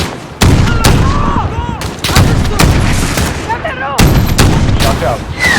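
Heavy gunfire in the Warzone video game, with several loud, close blasts in uneven bursts among battlefield noise and shouted voices.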